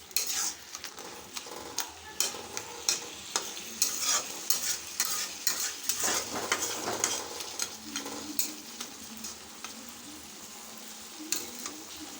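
Crab chorchori cooking with ground garlic, onion and ginger paste, a busy sizzle overlaid with frequent scraping and clinking stirs from a spatula in the pan.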